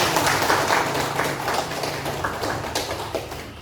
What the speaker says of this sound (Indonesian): Semuanya tepuk tangan dulu guys.